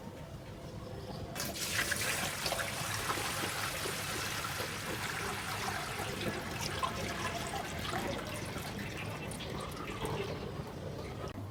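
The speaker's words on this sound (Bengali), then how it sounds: "এখানে হচ্ছে কবুতর গোসল করবে" Water pours and splashes steadily into a pigeon's bathing tray in a loft, a continuous close rush of running liquid with no talking.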